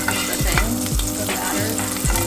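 Butter sizzling in a hot pan as it is pushed around with a utensil, a close crackling hiss broken by several scraping strokes.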